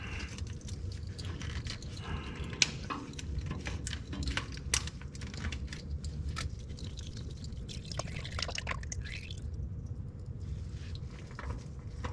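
Motor oil dripping and trickling into a drain pan beneath a C7 Corvette Z06 during an oil change, an irregular liquid patter with occasional louder drops and small clinks, no talking.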